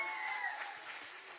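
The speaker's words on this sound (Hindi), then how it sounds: "माताओं के लिए ताली बजाओ जरा जोर से भाई" Crowd at an outdoor political rally in Chamba applauding the mothers, a steady wash of clapping that holds evenly throughout with faint cheering mixed in.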